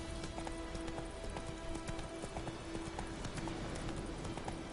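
Roach, the horse in the video game Witcher 3, gallops with a steady, quick clip-clop of hooves, moderately loud and continuous with no talking.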